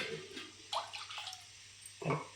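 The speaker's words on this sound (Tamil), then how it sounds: "அதுக்கு ரெண்டு கப்பு தண்ணி ஊற்றணும் தண்ணி ஊற்றிக்கலாம்" Water splashes and pours in short bursts as two cups of water are added while making paal kozhukattai, a brief gush early on and another near the end, close by with quiet gaps between.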